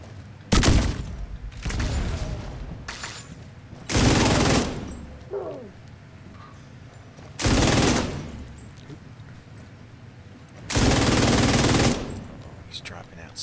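Bursts of incendiary-round gunfire in The Division 2, four loud sustained volleys spaced a few seconds apart with quieter game noise and scattered shots between them.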